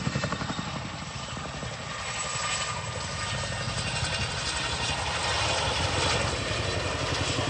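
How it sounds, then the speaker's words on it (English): A Chinook tandem-rotor helicopter flies a display at the Farnborough Airshow, its loud, steady rotor thump and engine roar slowly swelling as it closes in, with no talk over it. "the Chinook will now reposition to provide overwatch for the troops on the ground"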